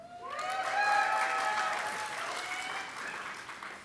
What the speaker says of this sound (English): You can go ahead and cheer if you would like